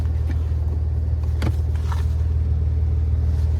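Maserati Ghibli S Q4, 2014, with its engine running after a push-button start: a steady, close low rumble holds throughout, with a couple of brief faint clicks over it.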